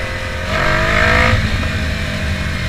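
A Yamaha R3 sport motorcycle engine revs up to high RPM, rising in pitch and holding a loud, close whine before easing slightly.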